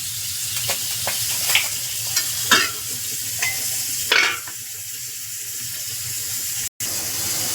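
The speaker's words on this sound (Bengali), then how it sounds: "তার জন্য কড়াইতে পেঁয়াজ নিয়ে নিয়েছি আর দিয়ে দিলাম জল।" Onions cook with a splash of water in a kadai, giving a steady low bubbling sizzle with several scraping stirs of a spatula at irregular intervals, close by and with no talking.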